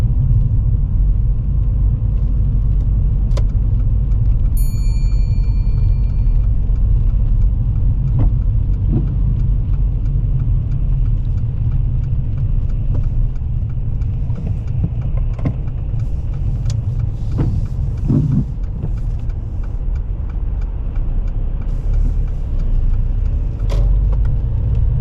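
A car drives steadily along a road, its engine and tyre rumble loud and continuous from inside or close by, with a few faint clicks and brief higher tones over the constant drone.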